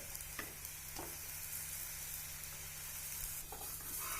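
Cauliflower paratha frying in a pan as a little oil is added, giving a steady close sizzle with occasional brief crackles throughout, with no talking.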